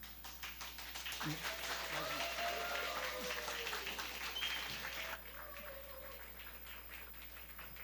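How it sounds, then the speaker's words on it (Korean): Faint, distant clapping from a congregation welcoming a speaker at a family retreat worship service. The applause thins out after several seconds, with people talking quietly over it. "우리 강사님 나오실 때 우리 큰 박수로 환영하도록 하겠습니다"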